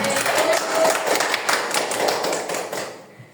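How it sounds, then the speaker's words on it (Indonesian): A second-grade class clapping hands together in a short burst of fairly loud, dense applause that stops abruptly after about three seconds. "Tepuk tangan."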